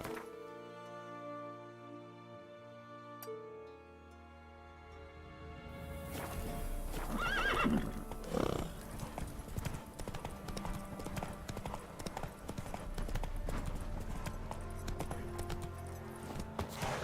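Horse hooves from The Witcher 3 clip-clopping at a gallop, a rapid run of close, loud thuds that starts after a few seconds of soft game music and keeps going to the end.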